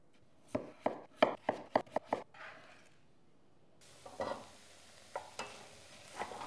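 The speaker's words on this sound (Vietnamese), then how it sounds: "Khoai tây cắt nhỏ ra rồi thả vào nồi." Diced potatoes are tipped into a pot with butter, onion and garlic for vichyssoise, giving a quick run of sharp clacks and knocks followed by soft sizzling and a few stirring taps.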